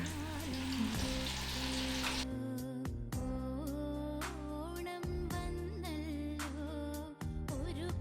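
Oil crackles and sizzles steadily as Kerala-style banana chips deep-fry, loudest at first, then continuing under a droning, tonal background.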